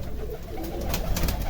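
Pigeons coo softly while eating grain, a low murmuring flock sound with a few faint pecks over a steady background.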